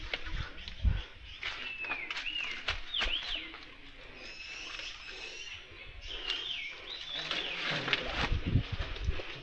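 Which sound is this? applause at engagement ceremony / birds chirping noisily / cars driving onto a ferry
birds chirping noisily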